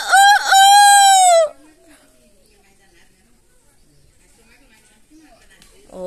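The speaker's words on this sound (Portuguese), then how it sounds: "o galo" A rooster crows loudly and clearly, a single long call, followed by quiet background with faint distant sounds.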